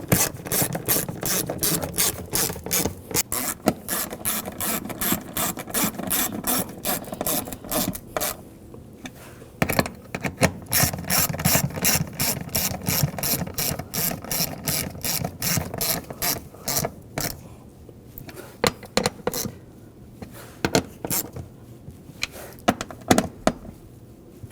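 A ratchet tightens the nuts on the right fuel pump module of a 2007–2013 BMW 328i 3.0L inline-six, with long runs of rapid, close clicking strokes broken by short pauses.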